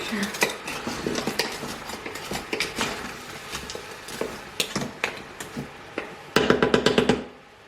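Carrots stirred in a pot, with repeated scraping and clattering of a utensil against metal, irregular at first and then a fast burst of knocks near the end, close and loud with no talking.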